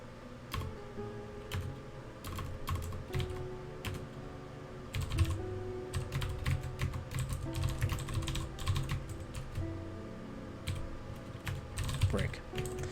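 Someone types C code on a computer keyboard: quick irregular bursts of clicky keystrokes with short pauses between runs and occasional talk underneath.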